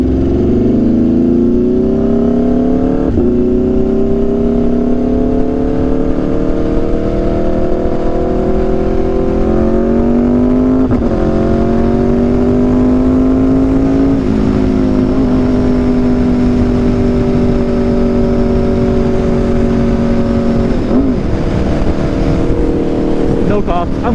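An Aprilia RSV4 motorcycle fitted with an SC-Project exhaust revs and pulls under load, its loud steady drone climbing in pitch through several gear changes while wind buffets the microphone from close by.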